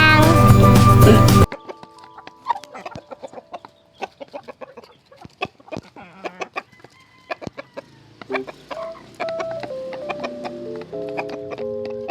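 Backyard chickens cluck in short, irregular bursts, with a rooster-like call among them, close and clear over quiet surroundings after a brief loud musical opening.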